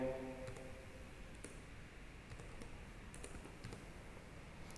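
Soft keystrokes on a computer keyboard tap out a short word in scattered clicks, quiet and close against a faint background hum, with no one talking.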